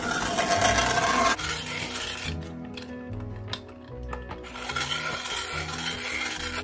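A food mill scrapes cooked tomatoes across its draining holes while spaghetti sauce is being made, giving a continuous grinding, rasping scrape with rhythmic turning strokes, close and fairly loud, with no talk.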